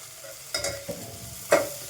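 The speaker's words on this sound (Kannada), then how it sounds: "ಮತ್ತು ಚೆನ್ನಾಗಿ ಫ್ರೈ ಮಾಡಿ. ಸ್ವಲ್ಪ ಗೋಲ್ಡನ್ ಬ್ರೌನ್ ಬರೋವರೆಗೂ ಫ್ರೈ ಮಾಡಿ." Onion fries in a pan with salt and drumstick, making a soft sizzle broken by a few quick stirring scrapes, with the sharpest scrape coming near the end.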